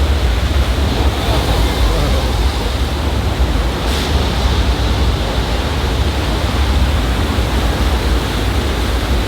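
Simulated flash flood water on a theme park ride at Halloween Horror Nights rushes as a loud, steady, dense roar that fills the whole stretch without a break.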